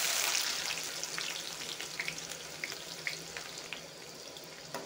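Garlic and chopped onion frying in oil, heard as a faint, steady crackling hiss dotted with small pops and spits, quiet and close, fading slightly over the stretch without any voice.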